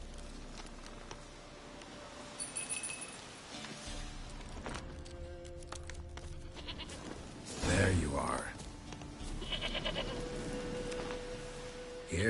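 A goat bleats once, loud and close, amid game music and ambient tones in the video game Witcher 3, with someone speaking briefly.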